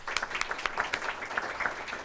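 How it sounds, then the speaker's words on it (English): Audience applause at a public talk on voting in Kentucky, a dense run of many hands clapping at once with a few sharper claps poking through, steady and moderately loud, with no voices. "Let's give them a round of applause."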